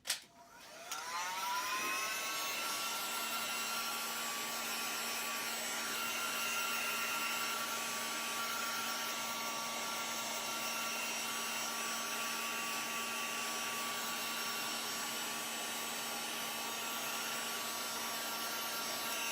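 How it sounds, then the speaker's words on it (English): A heat gun blows hot air over beeswax set with gold leaf and magazine ink, a steady close whir with a whining motor tone that spins up in the first seconds and then holds evenly, alone with no talk. "Touch the heat gun to it real quick."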